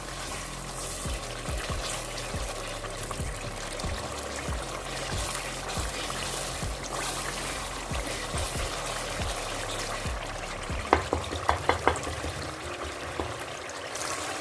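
Masala fries in oil for daal while being stirred, giving a steady sizzle with regular scraping strokes of the spoon in the pot and a few clinks near the end.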